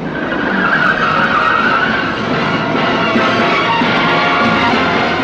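A car's tyres skid loudly and continuously for several seconds as it brakes to a stop in a Hindi horror film, a harsh, close screech over rumbling road noise.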